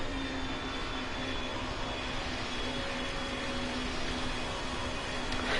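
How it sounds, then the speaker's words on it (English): Steady, loud jet engine roar from an airliner in the Roblox flight game PTFS, a constant broadband drone with a faint tonal whine that holds unbroken throughout, with no voices. "Engines are so loud I can barely hear you"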